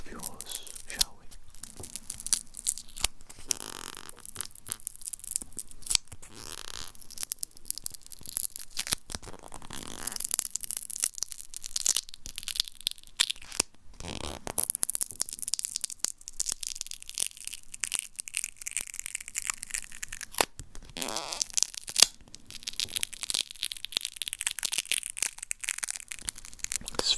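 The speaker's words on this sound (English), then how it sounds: "let's tape up that gob of yours, shall we?" Strong, sticky adhesive tape crackling and tearing in short bursts close to the ear in a whispery roleplay setting, with crinkling and rustling between pulls and a soft voice speaking at times.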